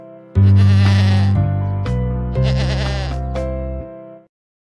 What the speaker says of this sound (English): A goat under an oak.